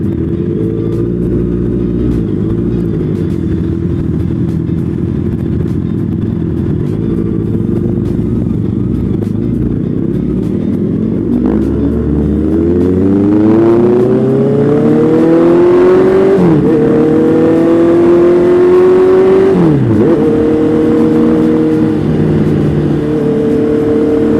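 Honda CBR650R motorcycles idle with a loud, rumbling engine, then rev up with rising pitch through several gear changes as they ride off, the roar staying close and strong throughout.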